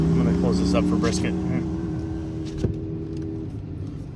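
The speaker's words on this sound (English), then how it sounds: "the guys next to me, I think their motorcycle's broken." A broken motorcycle engine idles and drones close by outdoors, a steady low rumble with a brief knock near the end, while voices talk over it.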